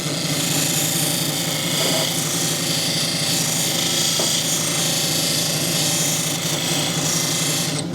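A lapidary polishing wheel grinds against a petrified wood sample, a steady, dense whirring and rasping drone that holds evenly throughout with no voices.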